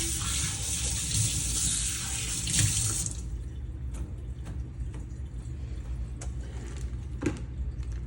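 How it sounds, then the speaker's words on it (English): A kitchen tap runs loudly as hands are rinsed under it for about three seconds, then shuts off, leaving a low room rumble and a few faint drips and clicks. "Let me rinse my hands off real quickly."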